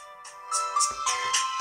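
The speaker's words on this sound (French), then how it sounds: "Notification son, donc sonnerie du téléphone." A notification ringtone plays loud and tinny from an ALLDOCUBE Cube Free Young X5 phone speaker, a short bright melodic chime rising over a faint low rumble.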